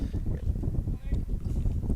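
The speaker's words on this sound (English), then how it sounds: "Here comes that wind. We've been getting little gusts of wind here." Wind gusts buffet the microphone at an outdoor high school baseball game, a low rumbling roar that rises and falls in waves, with faint sounds in the background.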